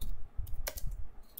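Keys on a computer keyboard are tapped while text goes into an Excel sheet, a short run of close, crisp clicks at an uneven pace with no talking.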